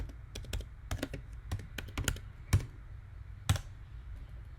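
Typing on a computer keyboard, a quick irregular run of crisp key clicks with a few heavier taps, close and fairly quiet, with no voices.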